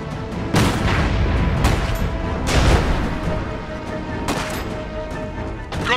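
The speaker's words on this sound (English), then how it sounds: "Incoming enemy fire!" Incoming enemy artillery in the video game Iron Harvest, a series of loud heavy booms and rumbling blasts that roll over one another across the whole stretch, with a sustained low battlefield roar between impacts.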